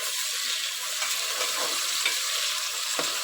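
Green chillies and tomato pieces sizzle steadily in a hot pan as they are stir-fried, a dense continuous crackle with occasional soft scrapes of stirring.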